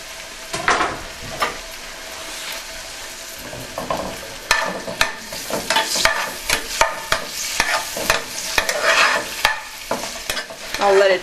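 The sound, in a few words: sautéing in a pan with garlic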